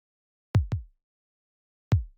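A thin, weak kick drum in FL Studio Mobile, played without EQ or distortion: three short dull thumps, two close together and one after a pause, quiet and dry with silence between.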